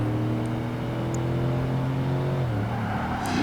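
A Mercedes SL55 AMG in the racing game Project Gotham Racing 2 drives around a short Yokohama track, its engine droning steadily and then shifting pitch downward as it slows or changes gear near the end.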